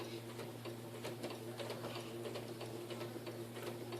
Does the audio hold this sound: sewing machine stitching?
yes